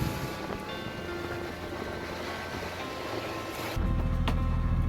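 A sailboat on an overnight ocean passage toward Amelia Island, Florida, sits in steady wave wash and wind noise, with a heavier rush of water and wind buffeting the microphone near the end, with no voices.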